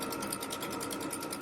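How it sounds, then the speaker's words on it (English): An embroidery machine runs steadily, stitching the boundary of a quilt block in a fast, even mechanical rhythm with a constant motor hum, close and moderately quiet. "this next step is going to stitch the boundary of the block, and then it's going to stitch some lines for me"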